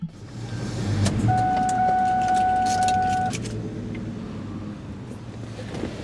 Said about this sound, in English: We'll go ahead and shut her down.